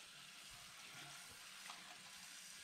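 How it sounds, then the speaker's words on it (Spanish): Tap water pours steadily into a pot of cut potatoes, a continuous broadband rush from a kitchen faucet with faint low clunks underneath, fairly close and quiet. "Pone agua en la olla de papas."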